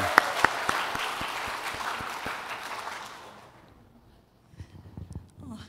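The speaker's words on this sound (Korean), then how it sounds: "우선 시작할 때도 격려의 박수 한번 주시겠습니다" Encouraging applause rises from a church congregation at an afternoon service, a few sharp claps standing out near the start before the clapping thins and fades out, leaving scattered faint sounds at the end.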